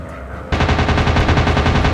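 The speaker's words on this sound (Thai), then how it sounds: "เล็งได้แล้วยิงเลยยิงไม่โดน" Rapid machine-gun fire from a warplane in a combat flight video game, a loud continuous rattling burst that kicks in abruptly after a quiet moment and keeps hammering steadily to the end.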